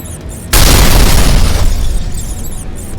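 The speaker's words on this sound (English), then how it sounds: "came the muffled sound of one of Sam's booby traps going off a couple floors below" A heavy, muffled boom of a booby trap exploding a couple of floors below erupts after a brief quiet moment, followed by a long low rumble that slowly fades.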